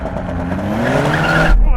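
Drag race launch with a BMW M8 against a Mercedes-AMG GT 4-door: a loud, close engine roar climbs in pitch as the cars accelerate, then cuts off abruptly at a gear change, with tire noise mixed in.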